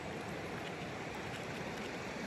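The Chattooga River, a mountain river in northwest South Carolina, flows with a steady, soft broadband rush of moving water, continuous and fairly distant, with no voices.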